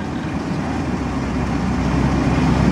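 An RV engine running rough on a morning start, a steady close low rumble that holds without a break.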